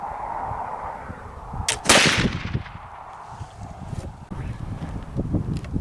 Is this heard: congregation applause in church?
no